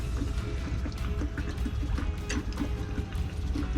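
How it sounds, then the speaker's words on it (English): Aquarium water is poured into a shrimp feeding tube, giving a steady, close trickling and splashing sound that runs continuously without pause. "I just use aquarium water and just fill the tube a little, and it just wafts it down a little quicker."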